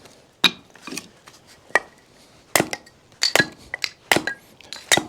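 A Fiskars X7 axe splitting kindling wood, with a series of sharp, close, separate cracks and clinks at an irregular pace, each strike quick and bright against a quiet background.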